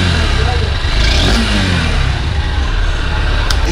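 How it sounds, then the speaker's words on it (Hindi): The engine of a new Honda CB200X motorcycle revs hard through its exhaust, a loud, close, continuous throaty drone with a slightly thin tone, and someone talks over it. "थोड़ा सा विसल टाइप का साउंड आएगा जब इसका RPM हिट करता है, तो सुनो थोड़ा।"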